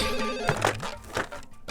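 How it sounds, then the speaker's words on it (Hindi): A telephone ringing in a sari shop in a Hindi TV drama, a repeated electronic ring pattern heard close and clear with no talking over it. "अरे फोन बज रहा है"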